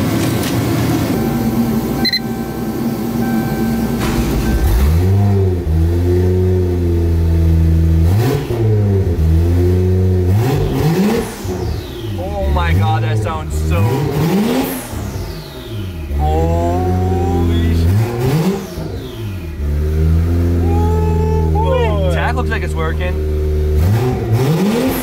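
A Toyota 1JZ engine in an SC300 with an open downpipe revs repeatedly, loud and raspy, surging up and dropping back in rapid bursts with a constant rumble underneath.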